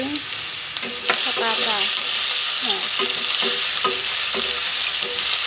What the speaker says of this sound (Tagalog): Aring mga carrots, piprito ko muna.